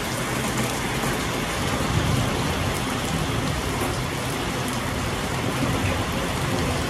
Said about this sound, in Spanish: Aquí José disfrutando de la lluvia